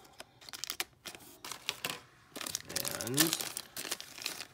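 A tight plastic bag from a Funko spooky countdown set is cut open with scissors, giving crisp crinkling and snipping bursts close by, with a person talking over it.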